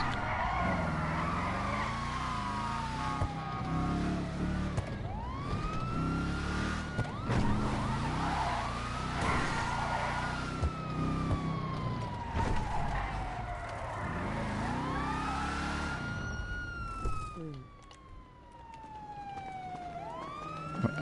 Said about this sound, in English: Still just hear those sirens.